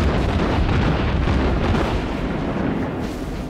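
In the naval video game World of Warships, a torpedo strikes a ship with a loud, sustained rumbling explosion that fills the whole stretch, dense and heavy, slowly easing off toward the end.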